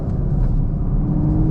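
A deep, steady V8 exhaust rumble from a 2024 Chevy Camaro SS Collectors Edition, loud and continuous, with a low throaty drone and no voices.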